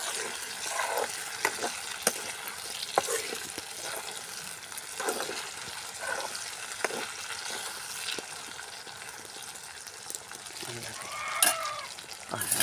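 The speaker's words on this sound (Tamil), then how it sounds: "லைட்டு அதனால நம்ம கிண்டி எடுத்துக்கிறணும்." Pepper chicken frying in a pan in a village kitchen, with a steady low sizzle and repeated soft scraping clicks from stirring, heard fairly faint and close.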